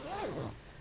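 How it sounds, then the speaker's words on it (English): A close, quick zipper pull, a short rising-then-falling rasp, comes from a makeup bag being sewn, with a quiet room behind it. "So now I need to attach the zipper to this side."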